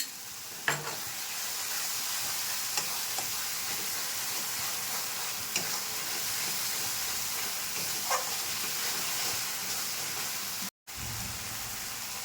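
Bata fish curry with mustard paste sizzles steadily as it is stir-fried in a pan, with a continuous frying hiss and occasional soft scrapes and taps of the spatula, briefly cutting out near the end.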